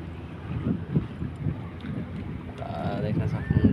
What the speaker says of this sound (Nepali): हावा एकदम राम्रो चलेको छ